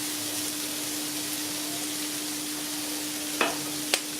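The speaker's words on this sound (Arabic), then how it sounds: "صافي غادي نبقى نخلط حتى كطيب لينا هاد الخضره" Vegetables frying in olive oil as they are stirred, giving a steady broadband sizzle with a constant hum, and two brief scrape or clink accents near the end.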